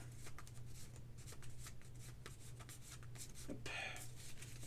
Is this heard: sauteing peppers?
no